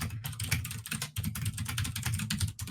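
Loud mechanical keyboard with blue switches typed rapidly and continuously, dense sharp clicks close to the mic with no talking.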